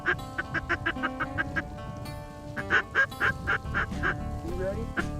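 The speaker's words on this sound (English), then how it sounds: "5 low ducks, 6 low ducks." Ducks quack repeatedly in rhythmic bursts during a field duck and goose hunt, the calls loud and close with a short pause midway before resuming.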